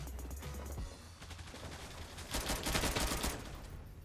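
Shotgun fire in the online shooter game Zula, a sustained burst of loud gunfire blasts, building in intensity toward the end, with no talking.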